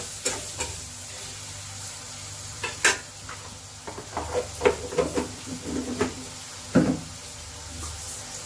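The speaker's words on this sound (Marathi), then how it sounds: "मीठ घातल्यावर पुन्हा याला एकदा हलवून घेऊया।" A carrot stir-fry seasoned with salt sizzles in a pan while a spoon stirs it, with scraping strokes and knocks against the metal over a continuous close hiss.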